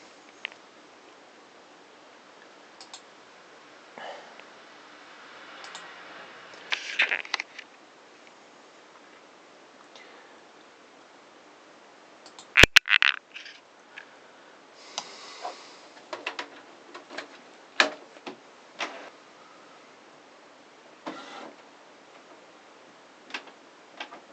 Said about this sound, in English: so let's just try printing this off and see what happens